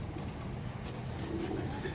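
Domestic pigeons kept in a loft coo softly under a steady background hum, a low continuous murmur lasting the whole short stretch.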